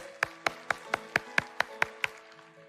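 A church congregation claps in unison during a worship service, about nine sharp, evenly spaced claps at a steady rhythm, fairly loud and clear over a faint background hum.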